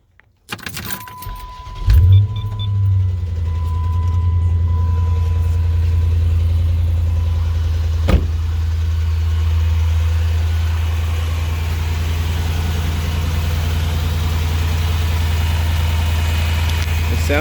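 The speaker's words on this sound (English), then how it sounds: "I don't know if I got a HEMI tick or if I dropped a valve seat, but this car is making some weird noises." A Chrysler 300C HEMI with a suspected tick or dropped valve seat is started nearby, with keys jangling first, then a loud steady idle with a faint repetitive ticking mixed in and one sharp click midway.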